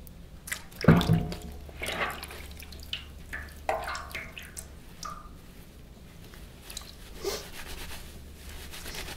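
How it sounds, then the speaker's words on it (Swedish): A wool mitten being fulled by hand in warm water with soap, giving soft wet squishing, dripping and sloshing sounds with a louder splash near the start, close and steady with no talk. "När man valkar så använder man sig av varmt vatten och"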